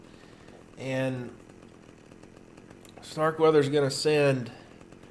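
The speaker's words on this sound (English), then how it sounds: "I'm going to try to chainsaw it." A chainsaw in the video game Manhunt revs in one short burst as it bites into a door, followed by a pause and then someone talking over the game audio.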